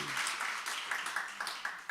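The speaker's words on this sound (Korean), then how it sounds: "우리 박수를 한번." A church congregation at a Wednesday worship service breaks into brief, fairly faint applause, with scattered individual claps popping out as it tapers off.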